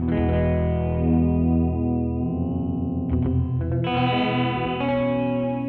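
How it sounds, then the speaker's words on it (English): Sustained electric guitar chords through a Line 6 DL4 MkII delay pedal with the modulation cranked, washed in heavy wobbling modulation and echo, with pitch swaying and a brighter chord change near the end. "It is kind of funny when you really crank the modulation."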